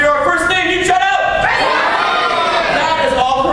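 A crowd at a student improv comedy show shouting out suggestions all at once, a loud jumble of overlapping voices and whoops that swells and stays dense throughout.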